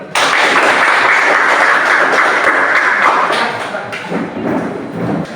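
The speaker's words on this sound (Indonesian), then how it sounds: "Silakan tepuk tangan dulu." A classroom of students applauding together, a dense, loud burst of clapping that holds steady for about three seconds, then thins and fades toward the end.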